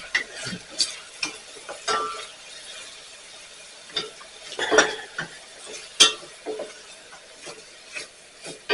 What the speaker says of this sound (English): there's a couple of cloves of garlic, and I'm going to go ahead and saute this